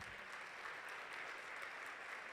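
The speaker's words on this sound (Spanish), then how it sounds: "¿Por qué no le da un aplauso a la palabra del Señor?" A church congregation claps for the word of the Lord, a steady, faint patter of applause heard from a distance, with no talk over it.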